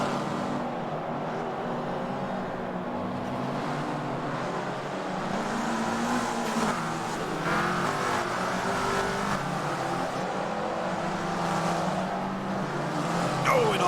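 Race cars in a Forza game race at the Rio circuit roar steadily and loudly through a lap, engines droning and shifting in a dense mix with faint commentary underneath.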